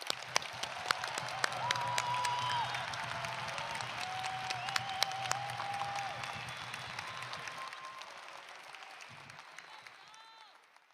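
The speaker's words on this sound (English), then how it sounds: "Please join us for a round of applause." Round of applause at a university psychology graduation ceremony, a broad steady crowd clapping with scattered cheers and whoops, gradually tapering off near the end.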